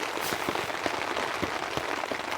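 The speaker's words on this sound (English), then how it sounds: "There's like no wind and just nice drops falling down." Raindrops patter steadily on a tent at a rainy campsite with no wind, a dense, even crackle of close drops filling the sound with no voices.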